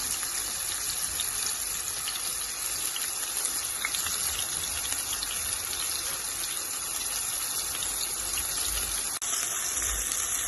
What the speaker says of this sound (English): And I'm gonna fry this until golden brown.